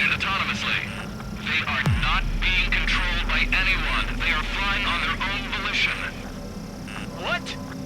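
Drone escort aircraft flying in Ace Combat 7, a steady jet-engine rumble running under continuous radio chatter, with a brief swooping pass partway through.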